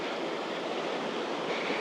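A mountain river in Switzerland rushes over boulders, a steady, dense wash of water noise heard from nearby without pause.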